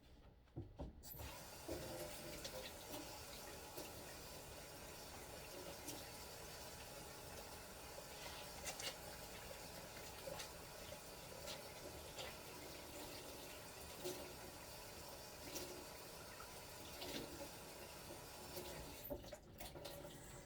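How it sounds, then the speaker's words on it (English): Hands washed under a running kitchen tap before cooking breakfast, a steady, soft stream of water splashing continuously with faint clatters, stopping briefly near the end. "before I get started, I wash my hands first."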